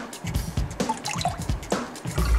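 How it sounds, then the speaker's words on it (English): Broth ladled into a cup with a bit spilling, a short run of small drips and splashes of liquid, close and fairly quiet. "I'll just get my ladle and then ladle it into my cup."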